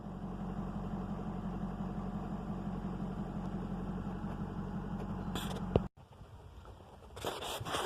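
A 6.0 diesel service truck engine, after a new front and rear seal, an oil cooler rebuild and a replacement turbo, idles with a steady low rumble, then a sharp click and a sudden drop in level, with fainter engine noise after.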